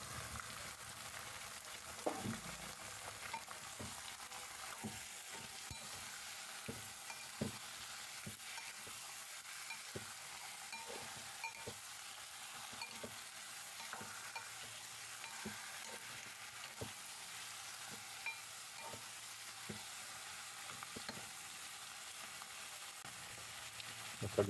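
Chopped chicken frying in a pan, a steady, faint sizzle with intermittent soft scrapes and clicks as it is stirred, close and without talk.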